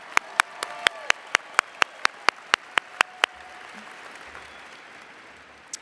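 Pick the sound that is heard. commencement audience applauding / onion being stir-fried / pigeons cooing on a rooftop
commencement audience applauding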